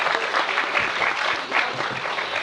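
Applause for a Georgetown University law professor at a New Columbia statehood commission gathering: a crowd claps steadily and densely throughout, loud and close, with no voices standing out.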